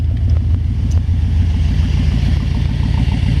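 A 1929 Ford Roadster hot rod runs nearby, its engine thrumming in a steady, deep, lumpy idle with a loud, even pulsing rhythm and no voices.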